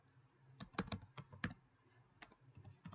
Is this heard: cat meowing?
no